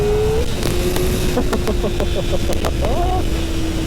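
A tuned Kawasaki Ninja ZX-4RR motorcycle engine drones loudly and close with a steady high whine, rising in pitch near the end as it pulls in second gear.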